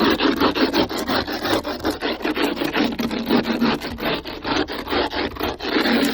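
A rock-hard frozen item is scrubbed vigorously by hand to defrost it in the Canadian cold, giving a steady run of close, rasping, rhythmic strokes that continue without pause or talk.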